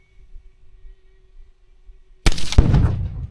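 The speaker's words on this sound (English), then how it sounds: "Pretty good little explosion." A mini fridge is blown up in a single sudden, loud blast after a quiet lead-in with faint background noise, followed by a rumbling roar as the explosion dies away.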